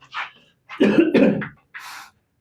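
Several close, loud coughs, with a short throat-clearing burst at the start and a final rasping cough, separated by brief silences.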